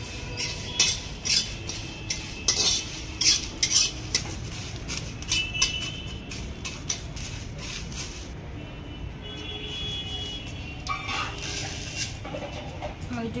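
Dry chilies, coriander and cumin are stirred in a pan with a little oil for an elephant apple pickle. Repeated metallic clinks and scrapes of the utensil against the pan come in uneven bursts, with only a faint frying hiss underneath.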